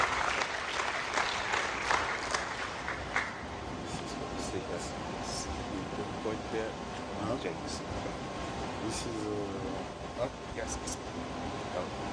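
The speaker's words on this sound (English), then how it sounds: "A round of applause, please, for Mr. Adramana Berte." Audience applause for a speaker at an annual general assembly of an African companies association, steady mid-level clapping that is densest early and then continues more evenly throughout.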